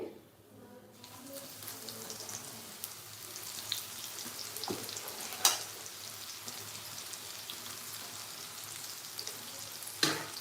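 Okra (bendi) fries in hot oil in a home kitchen, giving a steady, close crackling sizzle with a few sharp pops and stirring clicks along the way.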